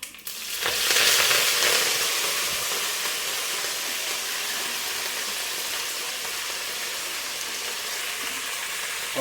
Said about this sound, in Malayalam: നമ്മൾ ഇതിനകത്തോട്ട് നമ്മൾ കുറച്ച് കറിവേപ്പില ഇടും.